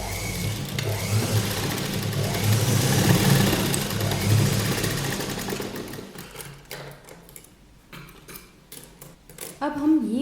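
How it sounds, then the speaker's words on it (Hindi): Sewing machine stitching fabric for a child's sleeveless summer frock, running loud and steady for about six seconds, then stopping into quieter handling sounds and a brief burst at the end. "अब हम ये वाले पार्ट की भी सिलाई लगा लेंगे"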